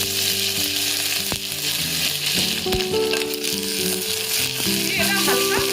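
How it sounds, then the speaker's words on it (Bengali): Cashews, raisins and peanuts frying in hot oil, a continuous bright sizzle with occasional scraping stirs and light rattles, with a voice talking over it and faint background tones. "তার মধ্যে আমি ড্রাই ফ্রুট, কাজু, কিশমিশ এবং পিনাট দিয়ে দিলাম।"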